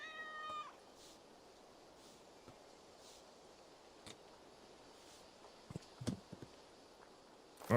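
A cat gives one short, clear meow at the very start, followed by a quiet room with only faint scattered taps and rustles.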